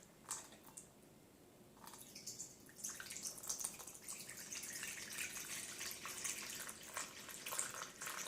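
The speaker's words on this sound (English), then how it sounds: "And we're going to start with 350 grams of warm water." Warm water pours into a bowl resting on a kitchen scale for sourdough, starting with a few faint drips and building into a steady, close trickle.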